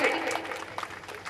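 Young schoolchildren at a school event clap together in a brisk burst of applause, with an adult voice talking over the clapping.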